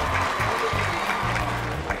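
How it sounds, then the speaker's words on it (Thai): Wedding guests applaud to welcome the bride and groom, a steady wash of clapping mixed with a rhythmic, tonal music-like backing at moderate loudness. "ขอเสียงปรบมือต้อนรับให้กับงานวันนี้ให้กับผู้บ่าวสาวเลยนะคะ"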